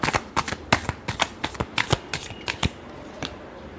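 Tarot cards being shuffled by hand in a quick series of crisp riffling snaps and flutters, close and clear with no talk over them.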